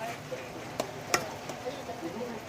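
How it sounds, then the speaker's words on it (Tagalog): Bicol express pork simmering in coconut milk is stirred in a pan, with soft bubbling and a few sharp spoon clicks against the metal, fairly quiet overall. "Halukay ng halukay lang mga katsoy."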